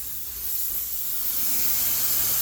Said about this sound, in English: Spray the back side here